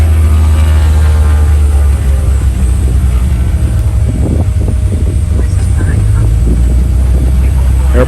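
A Beechcraft Baron twin-engine airplane taxiing into a shade port, a loud, constant low engine drone heard from inside the cockpit with a steady rumble throughout and faint talk beneath it.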